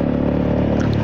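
A Honda Forza 300 scooter engine idles steadily with a low, even hum and a faint rattle, close and continuous with no talking.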